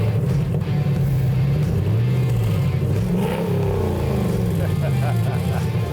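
A car with a working exhaust revving at a car show, deep engine rumble rising and falling in pitch through several throttle blips, with people talking over it.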